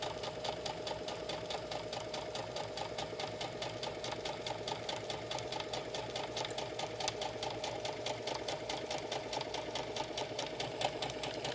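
A sewing machine runs steadily while stitching a quilted tablet cover, its rapid, even mechanical whir and needle chatter continuing unbroken throughout at a close, moderate level with no talking.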